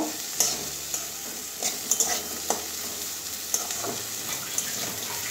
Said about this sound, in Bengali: এবারে ভালো করে হলুদ ধনে গুঁড়োর সঙ্গে একটু কষিয়ে নেব